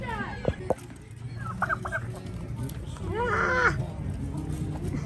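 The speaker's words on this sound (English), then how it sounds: "I feed it a chicken." A chicken on a farm clucks in short bursts, with a longer squawking call partway through, close up over a faint background and a few distant voices.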